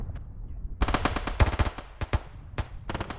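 Machine-gun fire in a Stalingrad war game, short rattling bursts and single sharp shots cracking close and loud over a low background rumble, with a couple of heavier clusters in the middle.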